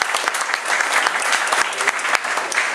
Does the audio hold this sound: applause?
yes